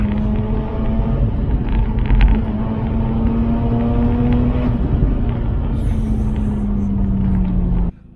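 A Mazda RX-8 with its 231 bhp rotary engine running close by, a steady smooth buzzing drone with a gradually rising then easing pitch, loud and continuous before cutting off abruptly.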